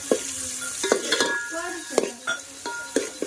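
Chopped onion sizzles in hot oil with garlic while being stirred, producing sharp metallic scrapes and clanks over a steady hiss. The sounds come close together in quick succession, with no speech.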